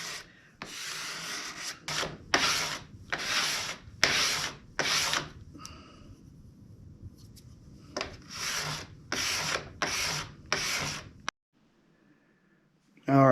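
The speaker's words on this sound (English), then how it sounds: "the epoxy has been scraped and planed" Rhythmic scraping and planing strokes work hardened epoxy off a wooden serving tray, about a dozen close, rasping passes in two bursts separated by a short pause, ending in near silence.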